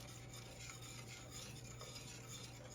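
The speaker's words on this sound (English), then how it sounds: "So I'm mixing that in along with 1 tablespoon of vanilla" Peanut butter and a tablespoon of vanilla get stirred into a warm mixture in a pan off the heat, making a faint, steady scraping and rubbing with no sizzle.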